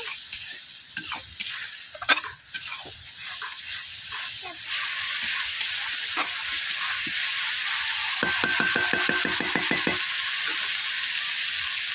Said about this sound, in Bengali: আমি কড়াইতে জল দিয়ে দিচ্ছি। জল দেওয়ার পর মশলাটাকে এইভাবে 2 থেকে 3 মিনিট কষিয়ে নেব।